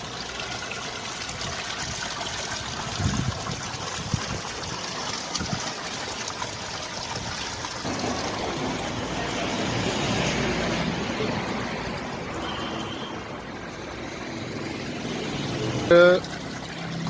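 Spring water from Nehru Kund in Manali pours steadily out of a pipe outdoors, a continuous close rushing trickle with voices faintly around it.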